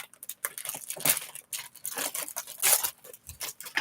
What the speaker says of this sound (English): Time for the scissors.